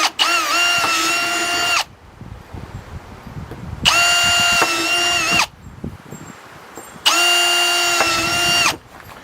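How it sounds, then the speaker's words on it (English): A power drill whirs in three sustained bursts of about two seconds each, drilling holes in a plant pot, with short gaps of clattering handling noise between them. "here I go drilling the holes"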